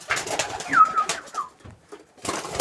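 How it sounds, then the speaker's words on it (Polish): Viennese pigeons coo and call close by, a few soft throaty phrases with short gaps, loud and clear with no talking over them. "Takie gołębiaczki."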